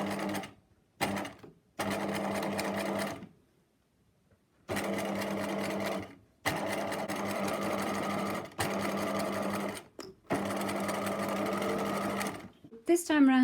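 A sewing machine stitches a bias binding casing strip down onto fabric, running in several steady bursts of rapid, even mechanical whirring separated by short pauses, close and loud with no talking.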